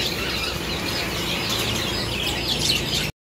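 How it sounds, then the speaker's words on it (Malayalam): Birds chirping and tweeting at a pet shop, a dense, steady chorus of high calls that keeps going without a break for the whole stretch, with no talk over it. "അപ്പോൾ നമുക്ക് ഈ പക്ഷികളുടെ ശബ്ദവും കേട്ടിട്ട് വീഡിയോയുടെ മുഴുവനായിട്ട് ഇങ്ങനെ കേൾക്കാം"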